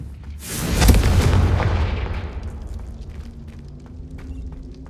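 A Confringo fire spell in the video game Hogwarts Legacy lands as a single loud, booming blast that swells in under a second and then rumbles away over several seconds into a quieter background.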